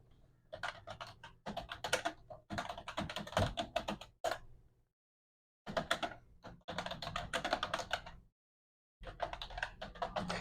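Close, fairly quiet typing on a computer keyboard in rapid bursts of keystrokes, separated by short silent pauses.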